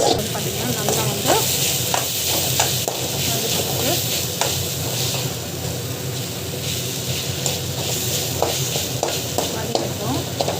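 Tomatoes sauté in a hot pan with a loud, dense sizzle and repeated spatula scrapes, while a person talks over the cooking.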